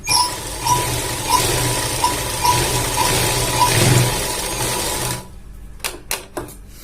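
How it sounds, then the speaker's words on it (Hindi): A sewing machine stitching the back pocket of a pair of pants, a steady fast mechanical whirr with rhythmic ticking for about five seconds, then stopping with a few handling knocks. "इस प्रकार से इसके ऊपर से सिलाई लगा देते हैं"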